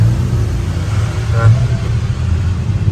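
A steady, close rumble from a car engine running on both LPG gas and petrol, with a low, throaty exhaust note throughout, swelling slightly midway.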